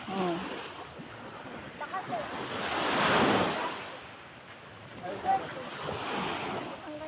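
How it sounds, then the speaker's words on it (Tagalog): Sea waves rolling and washing ashore, with surges swelling and fading, under steady wind rumbling against the microphone. "Yan, dagat."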